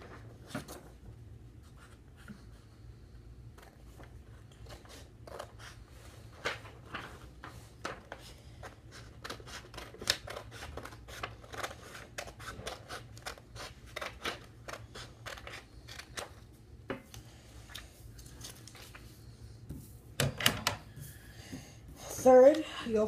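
Scissors snipping through folded yellow paper while making a paper ninja star, a long run of small crisp cuts and paper rustles, close and fairly quiet, with a few louder handling noises near the end.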